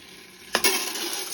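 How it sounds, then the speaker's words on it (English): Faint sizzle of hot oil in a kettle corn popcorn maker rising after a couple of sharp clinks, a soft steady crackle that holds quietly to the end. "you can hear the oil start to sizzle a little bit"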